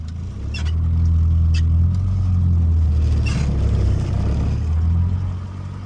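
A Morris Minor engine running under load with an engine bay ticking fault, giving a steady close mid-pitched drone and rumble with faint light ticks above it as the car drives along; no talking.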